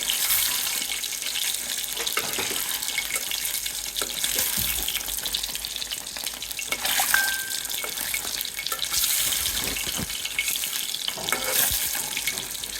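Eggs fry in a pan on a stove while being browned, giving a loud, rushing sizzle that swells and fades in waves and holds close throughout without any talk.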